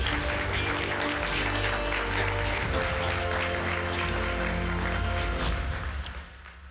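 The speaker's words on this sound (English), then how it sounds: "Can we give him a round of applause?" A steady wash of applause from a conference audience at a forest-protection finance event, continuous over a low hum, fading slightly at the end.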